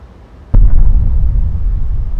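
A nuclear warhead detonation effect: one sudden sharp blast followed by a heavy, deep rolling rumble that stays loud and low to the end, with no talking.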